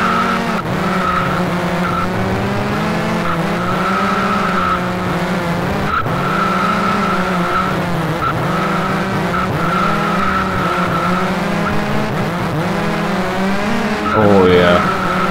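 A race car in the GeneRally racing game skids with constant tire squeal over a whining engine tone that rises and falls. The sound stays loud and continuous throughout.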